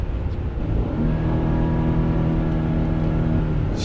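Ford car engine running steadily while being driven, a loud continuous hum with rising whining engine tones as it pulls through a gear, close and without talk.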